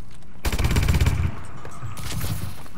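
A submachine gun fires in the Call of Duty Advanced Warfare video game, a loud, close, rapid automatic burst lasting about a second, followed by a softer second burst and lingering game noise.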